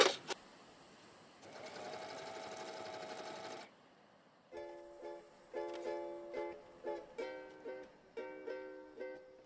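A sewing machine stitches a two-piece swimsuit: a brief burst of steady whirring, a short pause, then a run of quick rhythmic stitching pulses, close and clear.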